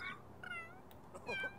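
Cat meowing in The Sims 3: two or three short, faint mews in quick succession, soft and close with game ambience behind.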